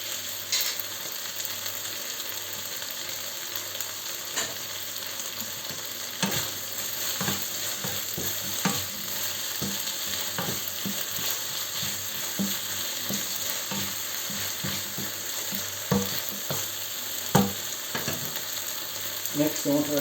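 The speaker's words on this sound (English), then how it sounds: "I'm adding the spring onion white." Spring onion whites frying in a pan, a constant bright sizzle with frequent short scraping and clicking stir sounds scattered throughout.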